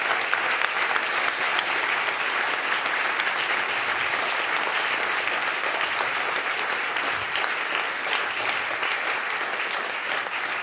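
Concert audience applauding at a live show in Lugano, a steady, sustained wash of many hands clapping, moderately loud and even throughout, with no voices.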